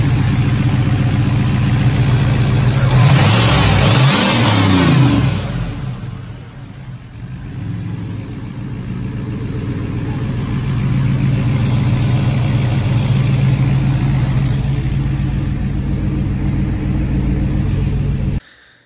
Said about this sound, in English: Car sounds good.